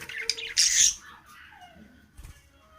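A budgie lets out a loud, harsh squawk, followed by softer chirps and a brief squeak close by.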